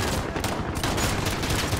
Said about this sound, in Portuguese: Caraca, moleque, muito tiro.